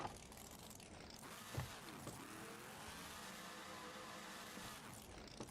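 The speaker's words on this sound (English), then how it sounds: "that truck does not sound happy with what he's doing to it" A monster truck engine in the video game BeamNG roars, straining and revving unevenly at high pitch as it labours, with a brief sharp thump early on.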